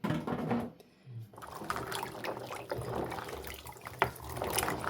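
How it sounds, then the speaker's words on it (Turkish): Cracked green olives being washed in water, with a steady splashing, trickling wash of liquid close by that pauses briefly near the start before resuming, and a sharp knock toward the end. "Şimdilik ayırdığımız zeytinleri güzel bir şekilde yıkamamız lazım."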